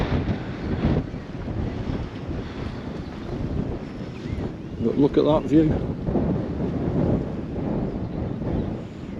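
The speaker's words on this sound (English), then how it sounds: "you might not be able to hear me because it's that windy" Strong gusting wind buffets the microphone on an exposed stretch of the Wales coastal path, a loud rumbling roar throughout, with someone speaking briefly beneath it.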